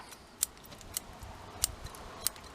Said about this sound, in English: But I'm going to trim this one back anyway